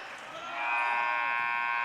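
A final buzzer sounds at a high school boys basketball game between Elliot Christian and Buchanan: a loud, steady electronic tone swells in after half a second and holds over arena crowd noise.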